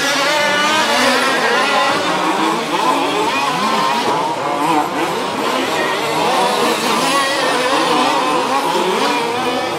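A 2WD OR6 radio-controlled racing car screams onto the straight at a German championship final, its high-pitched electric whine continuous and loud, with other RC cars buzzing around it and no break in the sound.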